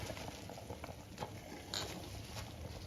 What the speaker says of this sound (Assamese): সম্পূৰ্ণ তেলবিহীন লফা শাকৰ বইল